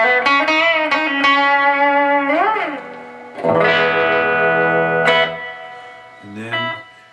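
Epiphone Les Paul electric guitar with BG Green Lizard pickups, played through effects: distorted, bending notes and sustained chords with chorus-like shimmer and reverb, loud throughout with a short pause before the final phrase.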